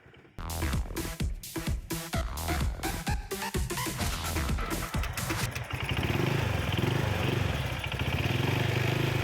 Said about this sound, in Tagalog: pinipihit-pihit na po ni Jasper ang idle screw habang nakasaksak ang diagnostic tools